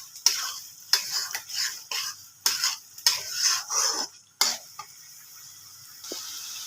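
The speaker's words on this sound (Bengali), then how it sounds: "ভালো করে কষে নেব।" Ginger and turmeric spices stir-fry in a pan for fish curry, a spatula scraping and stirring in repeated strokes over a soft sizzle, close and fairly quiet with no talking.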